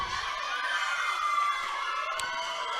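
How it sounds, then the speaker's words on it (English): A crowd cheers a lone swimmer at a provincial swimming championship, with a steady wash of distant shouting and cheering, a faint whistle-like tone in the mix. "Let's cheer her on."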